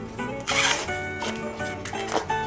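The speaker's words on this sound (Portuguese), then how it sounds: "aí pode terminar de descascar o milho" Green corn husks being torn and peeled from an ear of corn for pamonha, a dense crackling, ripping rustle in several close bursts with no pauses.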